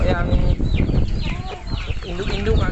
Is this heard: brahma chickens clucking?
yes